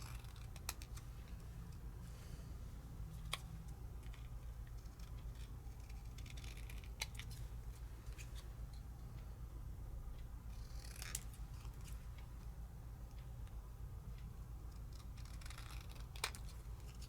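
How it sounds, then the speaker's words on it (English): Scissors fussy cutting a stamped paper poppy image by hand: quiet, close snips come in irregular small clusters over a faint low background hum, with no talking. "I'm going to be fussy cutting this."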